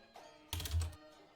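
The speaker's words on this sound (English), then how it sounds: "I apologize if you can hear the typing" A short burst of typing on a computer keyboard, a quick cluster of a few soft key clicks close to the microphone, alone with no voice.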